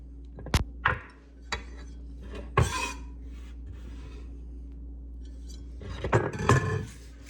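Minced vegetables scraped and scooped off a cutting board with a knife, giving scattered rasping scrapes and light clinks over a steady low hum, with a busier cluster of scrapes near the end.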